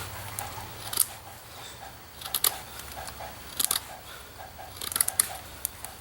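A carving knife cuts through knots in fairly soft birch wood, making sharp, scraping slices in irregular bursts of four or five strokes over a quiet background, close and crisp.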